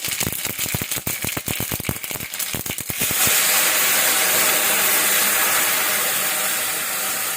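Mustard seeds and sesame seeds hit hot oil for a Gujarati rasa patra tempering: a loud burst of sharp, rapid popping crackles that soon settles into a steady, dense sizzle and hiss, close by with no talking.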